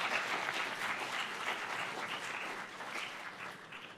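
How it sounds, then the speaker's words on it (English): An audience at a biology conference keynote gives a fairly quiet round of applause. The dense clapping holds steady for a few seconds, then gradually thins and fades. "Please give Dr. Reshma Shetty a big round of applause"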